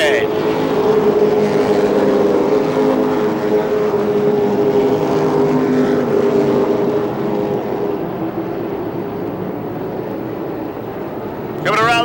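Late model race cars at a 1989 Rockford feature roar together in a loud, continuous pack after the green flag, with the engine drone holding steady and then easing slightly as they pass.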